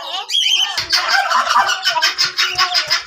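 A flock of parrots and a cockatiel in a zoo cage give loud, harsh, rapid squawks and screeches close by, a dense chorus of repeated calls with no talking.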